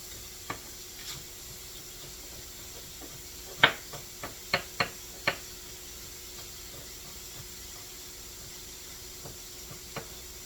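Sliced garlic sizzling softly in a pan, a faint steady hiss broken by a few sharp clinks and taps of a utensil against the pan.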